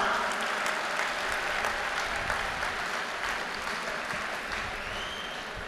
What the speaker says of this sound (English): Let us give a clap for all the non-teaching staff.